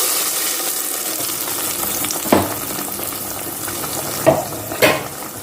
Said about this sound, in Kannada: ಈಗ ಸಾಸಿವೆ ಸಿಡಿದಿದೆ, ಆವಾಗ ನಾನು ಮಸಾಲೆ ಹಾಕಿಕೊಳ್ತಿದ್ದೇನೆ.